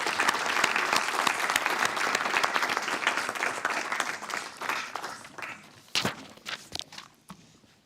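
An audience applauds award winners at a university distinguished awards ceremony, sustained clapping that thins and fades, ending with a few scattered claps and shuffling sounds.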